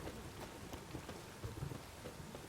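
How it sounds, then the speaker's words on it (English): Rain falls steadily in The Witcher 3: Wild Hunt, a soft continuous patter of drops with faint low rumbles underneath and no voices. "Oh, aye, rain."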